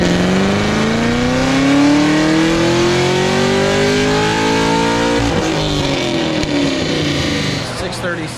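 A Dodge Challenger Hellcat Redeye with a supercharger, or a Camaro ZL1, runs loud on a chassis dyno, the engine climbing steadily in pitch through a long pull before shifting and dropping back, with a supercharger whine.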